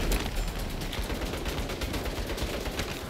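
Turret gunfire in the Saints Row video game: dense, continuous rattling bursts of automatic fire, loud and close throughout with no pauses.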